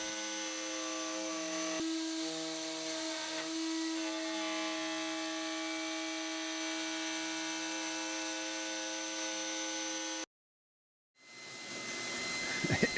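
A router with a 1/2 inch bit cutting wood on a Pantorouter for segmented woodturning, a steady loud high-pitched whine with shifting tones as it bites, cutting off abruptly before spinning back up.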